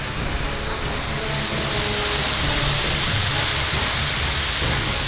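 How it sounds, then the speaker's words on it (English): A waterfall in a forest heard as a dense, continuous roar of falling water, loud and steady throughout with no voices. "here at this waterfall"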